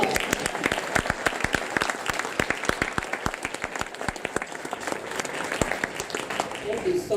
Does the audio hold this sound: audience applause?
yes